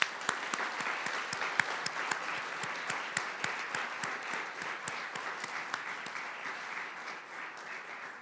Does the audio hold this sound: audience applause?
yes